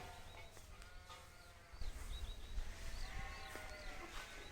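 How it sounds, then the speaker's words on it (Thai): Sheep bleat repeatedly in a garden: several thin, wavering calls come from a moderate distance over quiet outdoor background noise, with no talking. "นี่ดูแกะนะคะ ตอนนี้รู้สึกเขาจะตัดขนแกะหรือเปล่า"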